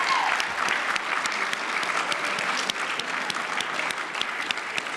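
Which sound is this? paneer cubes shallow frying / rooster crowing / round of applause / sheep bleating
round of applause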